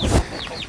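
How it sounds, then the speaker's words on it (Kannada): Chickens raised at a grandmother's village home give short, close clucking calls just after a low thump, lasting under a second. "ಕೋಳಿ ಸಾಕ್ಬಿಟ್ಟಿದ್ದಾಳೆ. ಎಷ್ಟು ಕೋಳಿನೇ ಅತ್ತೆ"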